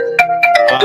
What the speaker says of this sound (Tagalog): ang aking telepono nagre-ring